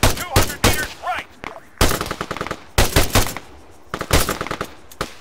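Rapid machine-gun and rifle bursts crackle in an ArmA 3 battle, coming in loud clustered volleys separated by brief gaps, with shots close and punchy.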